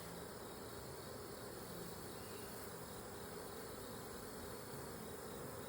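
A thick cloud of honeybees buzzes during a backyard hive inspection, a constant close drone that fills the whole stretch with no pauses or voices.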